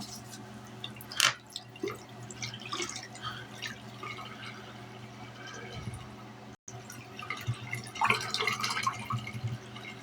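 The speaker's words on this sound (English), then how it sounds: "I was trying to rinse out this McCafe cup." Water dripping and splashing as a McCafe paper cup is rinsed out at a sink, irregular trickles and splatters at close range, fairly quiet, with a short silent gap midway.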